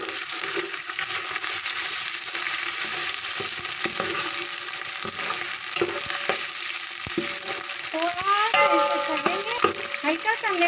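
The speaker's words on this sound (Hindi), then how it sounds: "हल्का सा हमने फ्राई कर लिया सब्ज़ मिर्च को।" Green chilies fry in hot oil with ginger-garlic paste for a biryani, a steady loud sizzle with repeated scraping stirs of the spoon throughout and sharper crackling pops near the end; no one speaks.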